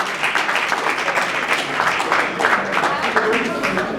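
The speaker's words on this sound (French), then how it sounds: "est-ce qu'on peut applaudir bien fort pour l'artiste Mimika Bongo?" Loud audience applause honoring an artist at a TV awards ceremony, a dense wash of clapping holding steady for about four seconds, with a voice or two mixed into the crowd.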